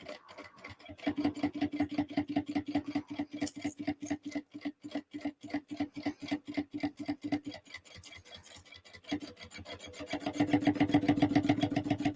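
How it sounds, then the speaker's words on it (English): A sewing machine back stitches a crossbody bag. It gives a fast, steady rhythmic clatter of needle strokes for the whole stretch, close and continuous, and grows a little louder near the end. There is no talking. "I'm back stitching when I restart my construction length."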